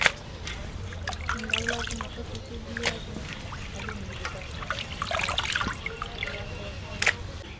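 Water splashes, trickles and pours continuously while Kadaknath chicken meat is washed in a bowl, with occasional clinks and sharper splashes close by.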